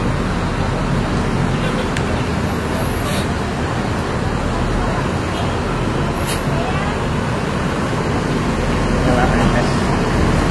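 Luxury intercity buses leaving a terminal, a constant loud roar of engines and traffic with hiss and brake sounds, a busy bus station scene where people are talking in the background.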